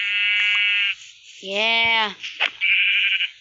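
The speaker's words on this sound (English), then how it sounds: "Now our first target is sheep." Minecraft sheep give short, buzzy game-style bleats in quick succession, sounding alongside other bright electronic game tones as a player speaks a single word.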